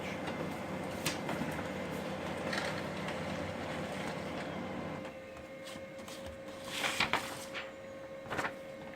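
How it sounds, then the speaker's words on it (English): A printer runs off a wireless test page with a steady mechanical whir and hum that drops off midway, followed by a few clicks and feeding clatters, close up with no talking. "And it's going to give us a test print page."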